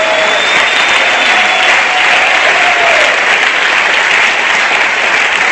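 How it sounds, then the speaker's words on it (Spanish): A church congregation applauds in a dense, loud, sustained wash of clapping that holds steady throughout, with a few faint voices mixed in. "denle un aplauso al Señor Jesucristo."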